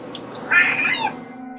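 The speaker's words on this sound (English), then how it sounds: "His cat looks curious and maybe even scared as it tries to communicate with something that isn't quite caught on camera" A cat gives a single clear, close meow of middling length against a quiet indoor background hum.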